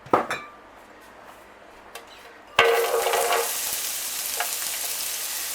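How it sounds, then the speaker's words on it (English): Onions dropped into hot olive oil in a frying pan on medium heat, a few clinks of utensils first, then a sudden loud burst of sizzling that settles into a steady close fry with occasional stirring. "heat up our pan on medium, a little bit of olive oil or whatever oil you've got. Chuck your onions in."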